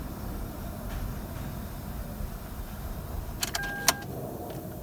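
A misfiring 1.8-liter Toyota Corolla engine, a 1998–2001 model that had sat unused since 2021, runs with a steady low rumble, topped by a few brief metallic clicks and rattles near the end.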